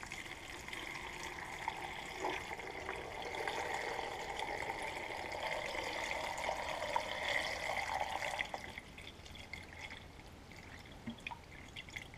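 Alum water, a quarter can of alum mixed into a gallon, poured over cucumbers packed in a 2-quart crock for fermented sweet pickles, a steady close splashing and trickling stream that stops abruptly near the end.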